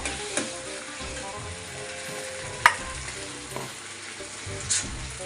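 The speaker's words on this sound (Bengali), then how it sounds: "এটা আমি এবার সুন্দর করে কষিয়ে নেব" Prawns sautéed in a pan sizzle continuously at close range, with a few sharp scraping stirs of the spatula standing out over the steady frying hiss; no one speaks.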